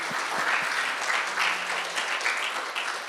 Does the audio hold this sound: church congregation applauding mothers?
yes